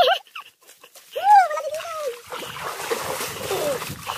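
Water splashes and sloshes as someone wades across a large river, coming in irregular bursts up close, with a dog whimpering briefly early on and people speaking.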